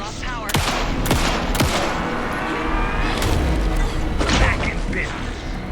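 Rapid gunfire in the video game Alan Wake 2: dense bursts of shots and sharp cracks run continuously under loud game noise.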